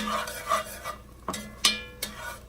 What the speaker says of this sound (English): We're going to add that to the pan